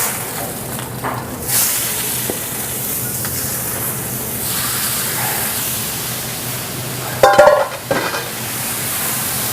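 Snap peas stir-frying in a super hot pan, a steady close sizzle and hiss with scraping stirs and a brief clattering burst of tossing near the end.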